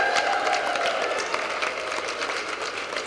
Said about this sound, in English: So you can give her another great round of applause.